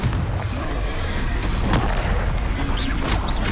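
Confringo blasting spell explosions in a Harry Potter video game, a dense run of booming, gunfire-like blasts over a constant rumbling game backdrop.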